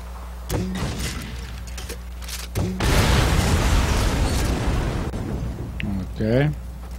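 Explosion in the video game Far Cry 4, a loud sustained blast rumbling for about two seconds mid-clip, with someone talking before and after.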